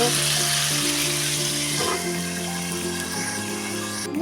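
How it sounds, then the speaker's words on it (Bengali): Potatoes with turmeric frying in a pan as they are stirred, a steady close hiss with scraping, cooked as part of a mochar ghonto made with a fish head. "এবার দেখবো নাড়িয়ে দিয়ে একটু হালকা করে ভেজে নেবো"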